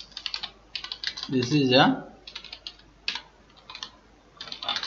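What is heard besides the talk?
typing code on a computer keyboard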